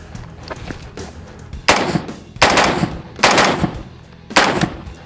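A Dark Storm Industries Variant 1 airsoft rifle fires several separate bursts, each a loud crackling rattle of rapid shots with short quiet gaps between them, heard close up and without speech.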